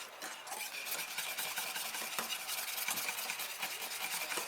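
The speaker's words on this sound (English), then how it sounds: "Alright, mix that in really well." A spoon stirs vanilla extract into a banana caramel tart mixture. The close scraping and sloshing go on without a break, with quick rhythmic strokes and a soft hiss under them, and no one speaks.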